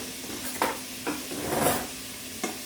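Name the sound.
stirring bacon frying in a pan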